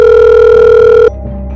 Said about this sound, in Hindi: श्रेया दौड़कर अपने कमरे में जाती है और आर्यन को फोन करती है।